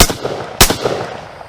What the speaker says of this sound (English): I just put 5 rounds down range in 2 seconds or so.